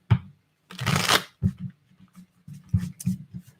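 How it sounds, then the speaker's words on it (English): A large Wild Unknown tarot deck being shuffled by hand in irregular bursts of riffling and flicking cards, close and crisp with short pauses between handfuls, no talking. "trying to shuffle this giant deck is a little bit challenging"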